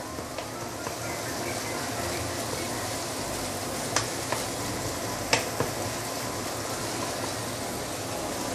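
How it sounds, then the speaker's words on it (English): Pork sautéing in oil in a wok, a steady dense sizzle running throughout with a few sharp clicks of a spatula against the pan partway through. "let's saute this for a couple of minutes."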